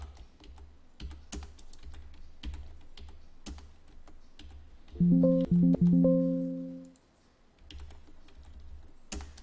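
A computer keyboard clicks with scattered keystrokes and short bursts of typing, close and fairly quiet, interrupted by a brief electronic tone in the middle.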